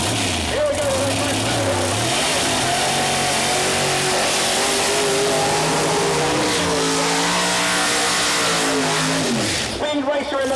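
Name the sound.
nitrous pro mod drag cars racing at dragway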